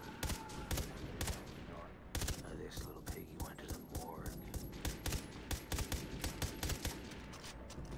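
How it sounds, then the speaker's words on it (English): A burst-fire gun in the video game Far Cry 3: Blood Dragon fires rapid clusters of sharp, punchy shots again and again, with short gaps between bursts, mixed with game effects and occasional voice. "Since when my gun is burst fire?"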